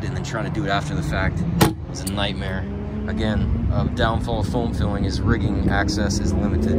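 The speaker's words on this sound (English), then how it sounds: "Sorry about the road noise." Continuous road traffic rumble with passing vehicles underneath someone speaking steadily, plus a brief clatter partway through.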